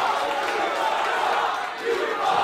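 Wrestling arena crowd at a women's championship match reacting loudly with shouts and chants, a steady roar of voices that dips briefly before swelling again.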